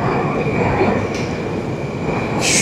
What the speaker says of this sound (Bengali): এইটা হচ্ছে এখানকার দেখুন নতুন মেট্রো